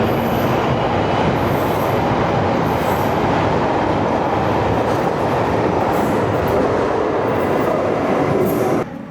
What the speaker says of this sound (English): Another train going out.